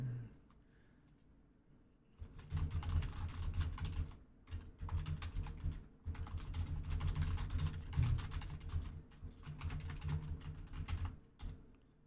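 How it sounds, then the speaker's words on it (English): Rapid, steady clatter of keys on a computer keyboard, close and fairly loud, starting after about two seconds of near silence and continuing in dense bursts with brief pauses, with no voices. "Don't mind me just typing something out before I get started."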